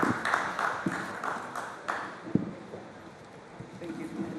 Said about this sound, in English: a huge round of applause for my panel on the stage